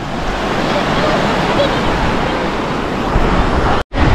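Sea waves breaking on a beach at Prestatyn or Rhyl on the Welsh coast, a steady loud roar of rough surf with wind buffeting, close and continuous, cut by a brief dropout near the end.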